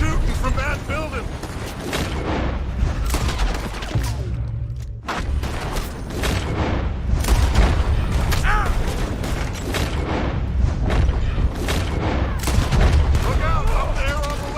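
Sustained gunfire in Red Dead Redemption 2, with dense, repeated shots, booms and mechanical clicks crowding nearly the whole stretch and pausing briefly once, while voices shout over the shooting.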